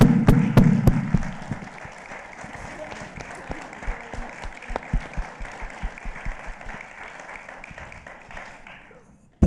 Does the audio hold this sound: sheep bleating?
no